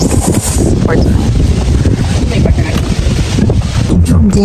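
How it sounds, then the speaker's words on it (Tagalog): Strong wind buffets the microphone with a loud, constant roar and gusty rumble in Prince Edward County, Canada, while a voice speaks underneath. "Sobrang lakas pa ng hangin."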